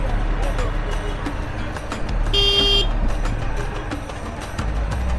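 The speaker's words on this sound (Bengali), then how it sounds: "মাঝে মাঝে একটু হর্ন বাজাতেই হয়" A vehicle horn honks in a single sustained tone during a village outing near a riverside in Bangladesh, rising briefly over steady road and engine noise, with people talking underneath.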